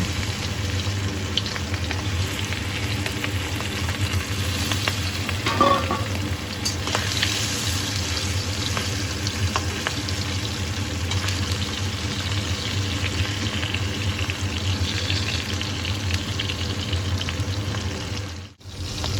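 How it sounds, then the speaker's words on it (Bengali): Hilsa fish pieces fry in mustard oil in a kadai over medium flame, a constant close sizzle with a low steady hum underneath and a brief scrape or clatter near the end, no talking. "কড়াইতে পরিমাণ মতো সর্ষের তেল দিয়ে মিডিয়াম ফ্লেমে গরম করে নিয়ে এর মধ্যে একে একে ইলিশ মাছের টুকরোগুলো দিয়ে উল্টে পাল্টে হালকাভাবে ভেজে তুলে নেব।"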